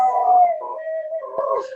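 A dog howls along with a town fire alarm siren, a long wavering wail that rises and falls across the whole clip, loud and close, with the siren blending into the howl.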